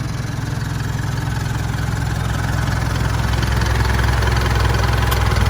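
An Isuzu NLR 130-horsepower truck engine idles steadily nearby, a low, even rumble with a faint vibrating rattle and no voices.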